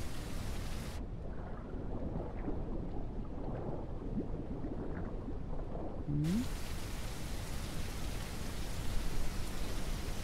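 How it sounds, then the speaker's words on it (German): Rain and rolling thunder in the survival game The Isle, a steady hiss of rainfall with low thunder rumbling underneath; at one point the sound briefly dulls, then resumes. "Das Wetter ist schlecht, aber mir als Krokodil macht ein bisschen Regen nichts aus"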